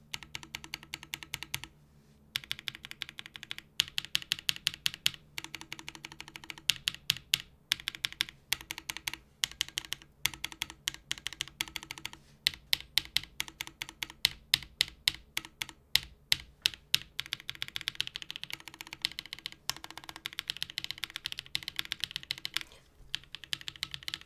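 Rapid typing on a prototype MAMAMOO mechanical keyboard, with dense bursts of crisp key clacks, brief pauses between runs, close and loud with no talking.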